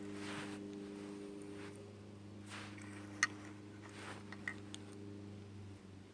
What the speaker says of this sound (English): excuse the lawnmower if you can hear it